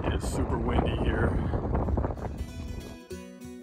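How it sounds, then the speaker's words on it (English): Strong gusts of wind buffet the microphone at the Little Colorado Overlook in the Grand Canyon, a loud continuous roar that eases off near the end. "It's super windy here."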